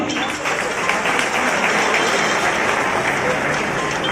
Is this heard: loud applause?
yes